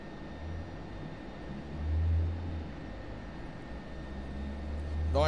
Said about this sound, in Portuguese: Tá escutando o freio aerodinâmico?